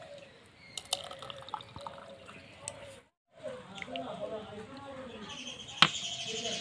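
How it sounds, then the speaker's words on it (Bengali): Thickened milk poured from a cup into a hollowed papaya for papaya malai ice cream, heard as soft, close liquid trickles and drips with a brief pause midway, fairly quiet. "এবার আমি দুধটা পেঁপের ভিতরে দিয়ে দিচ্ছি।"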